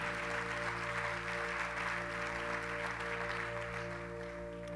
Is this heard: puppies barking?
no